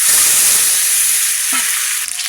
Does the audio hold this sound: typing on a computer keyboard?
no